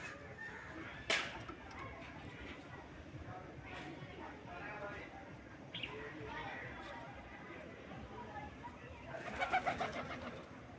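Faint pigeon cooing with occasional soft voices in the background, ending in a short burst of fluttering.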